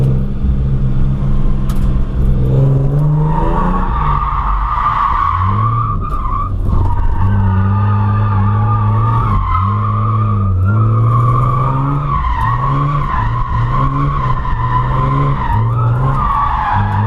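Ford AU Falcon drift car with tyres switched to 215/16s, squealing and skidding continuously while drifting, a loud sustained tyre screech over a rumbling, revving engine that rises and falls throughout.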